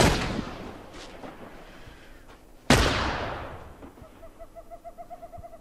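Sniper rifle gunfire in The Last of Us multiplayer: two loud, sharp cracks about three seconds apart, each with a long ringing decay, followed by faint pulsing electronic tones.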